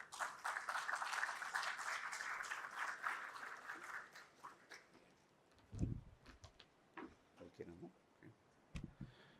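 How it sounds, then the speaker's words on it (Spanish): Applause from an audience at a daytime forum on territorial governance and restoration, a dense patter for about four seconds that fades into scattered claps, knocks and light movement near the end. "Un aplauso, por favor"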